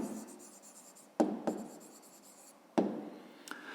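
A pen writes on paper in short scratchy strokes, with a few sharper taps where the tip lands, close and alone.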